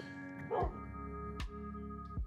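Tame dogs in Minecraft give three short, sharp barks and yips, spaced apart over a quiet background hum.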